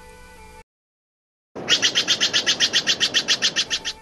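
A Steller's jay gives a rapid run of about fifteen harsh, evenly spaced calls, loud and close, after a brief silent gap at the start.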